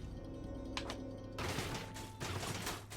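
Gun turrets in the Solasta fantasy role-playing game fire a rapid crackling burst, with dense clattering shots swelling loudly over a steady low game-music drone and fading back.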